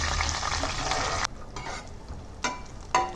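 Cashews and raisins frying in ghee give a dense close sizzle that cuts off abruptly, followed by quieter sputters and a couple of sharp bursts as more is stirred in.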